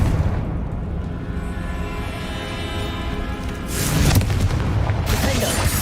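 A Confringo fire-blast spell from Hogwarts Legacy lands as a low, rumbling boom amid game noise, with a second, brighter burst of crackling impact near the end.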